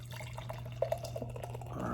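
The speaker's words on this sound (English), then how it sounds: "So let's get this beer poured." Beer poured from a can or bottle into a new glass, a soft liquid trickle with a few bright drips and glugs over a steady low hum, growing a bit fizzier toward the end.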